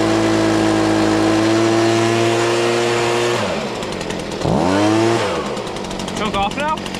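Small gasoline engine started on choke and run at full throttle during paver installation work, a loud steady mechanical drone that dips and revs back up, with people talking over it.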